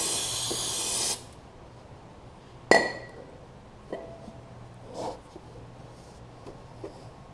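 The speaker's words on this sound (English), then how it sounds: "let me throw a little brake cleaner on this side" A can of brake cleaner sprays onto the drive wheel of a Snapper rear-engine rider mower in one loud hiss of about a second, followed by faint clinks and taps.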